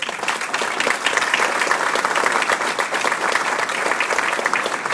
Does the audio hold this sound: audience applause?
yes